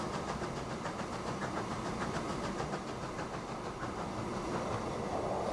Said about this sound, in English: our train that was supposed to carry cattle races through